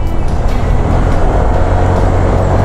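A truck rumbles along a winding provincial road in Morong, Bataan, heard from a moving motorcycle as a loud, steady roar of engine and road noise with a deep low drone throughout.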